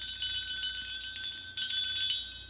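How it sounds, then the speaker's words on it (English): A bell sound effect rings out with bright, shimmering metallic tones that decay, then strikes again a second later, clear and prominent with no talk over it. "Now, there's that bell again"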